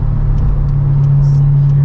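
Corvette engine accelerating while merging up an on-ramp at around 35 mph, a steady low droning hum with a strong bass tone, heard close from inside the car and continuous throughout.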